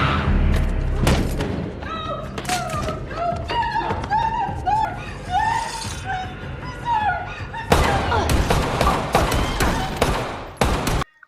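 Gunfire in a tense film scene, with a burst of heavy shots and thuds as neighbours open fire on a pair of killers. Music and other sounds run underneath, and the shots return loud near the end.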